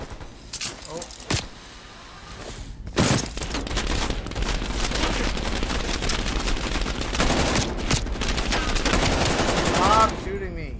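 Sustained automatic gunfire from a Call of Duty Black Ops Cold War campaign mission, dense bursts and explosive bangs running almost continuously at high loudness, with a voice speaking over the battle.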